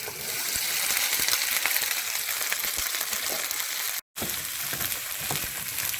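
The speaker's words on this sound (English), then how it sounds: "Now we are going to add it to the hot oil." Cut okra frying in hot oil with mustard seeds, giving a dense, continuous sizzle with scattered crackles and pops, loud and close, broken by one brief gap of silence near the end.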